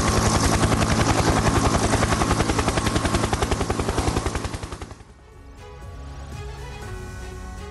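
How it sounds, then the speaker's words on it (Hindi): A Ka-52 attack helicopter fires on Ukrainian troops: loud, rapid, rhythmic rotor thumping and gunfire pulses for about five seconds, then dropping away into a fainter, more distant rumble. "हेलीकॉप्टर से यूक्रेनी सेना पर बमबारी हुई है।"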